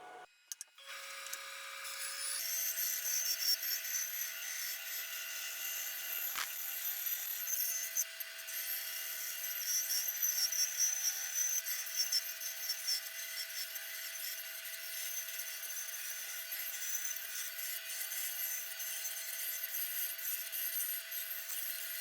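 Continuous rasping saw cut through a turned wooden piece on a lathe, a steady whirring hum underneath the fast scraping strokes for about twenty seconds, close and fairly loud with no talking.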